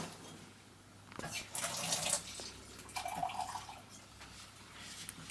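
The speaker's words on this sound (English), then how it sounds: "Add a bit of water." A small amount of water runs from a tap for gingerbread icing, two brief splashing pours, close and moderately loud.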